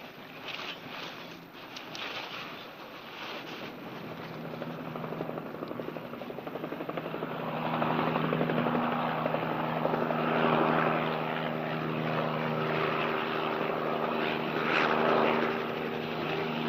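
A police helicopter from a 1956 highway patrol drama, rotor chop and engine whine building from faint to a steady loud drone as it passes overhead, with no speech.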